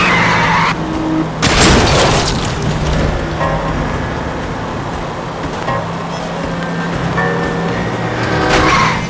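A car skids with a loud tire screech and a crash during reckless driving in L.A. Noire Remastered on PS5. Engine and road noise continue underneath, and further squeals follow near the end.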